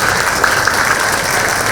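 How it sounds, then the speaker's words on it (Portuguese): An audience applauds at a lecture on games and motherhood, a brief, loud and continuous wash of clapping from many people at close range. "Por favor, também uma salva de palmas para vocês três mulheres maravilhosas."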